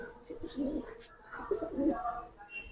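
A Pakistani kalpet pigeon coos in two soft, throaty bursts close by, with light room noise and faint background sounds around it.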